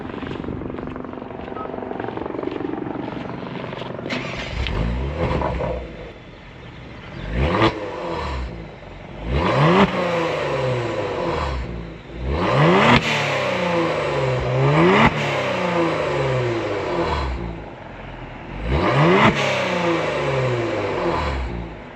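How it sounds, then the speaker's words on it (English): A Kia Stinger with catless downpipes revs up repeatedly in loud bursts, each rise followed by crackling exhaust pops and burbles as the revs drop, with no talking. "see if I could get that little pop burble tune"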